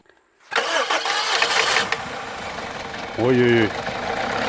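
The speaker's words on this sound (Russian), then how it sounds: "сейчас заведем мотор, хорошенько погазуем" A car engine cranks and catches after a moment of quiet, then idles roughly and is revved once in a loud rising surge before settling back; a voice briefly exclaims nearby.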